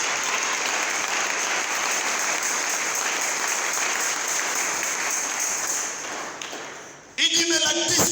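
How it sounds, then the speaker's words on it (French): A church congregation applauds loudly and steadily for several seconds, then the clapping thins out and a voice starts speaking over a sudden tonal sound at the end. "Est-ce qu'on peut acclamer fort pour notre personne?"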